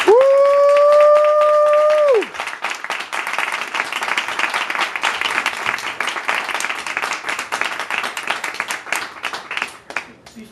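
A bookstore audience at Elliott Bay Bookstore breaks into sustained, dense clapping to welcome Gary Vaynerchuk, following a brief electronic tone at the start and continuing steadily for several seconds.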